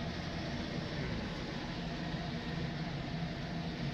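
A giant tractor's diesel engine in Farming Simulator roars as a loud, steady, broadband drone that holds evenly throughout with no breaks.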